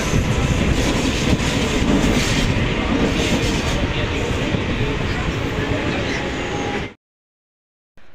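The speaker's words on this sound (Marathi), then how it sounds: "वरून ट्रेन पकडली आणि ट्रेन पण पूर्ण खाली आहे." A Mumbai local train runs with a steady, loud rumble and clatter of wheels on rails, heard from inside the car, continuous until it cuts out abruptly near the end.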